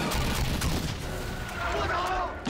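Gunfire and artillery in a war film battle scene, a dense, continuous roar of shots and booms filling the whole stretch, loud and busy with no clear gaps.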